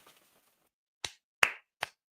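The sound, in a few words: clapping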